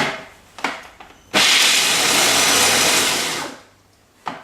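Cashew nuts being ground in a blender, a loud continuous whirring burst lasting about two seconds, framed by brief clicks and knocks before and after, with no talk.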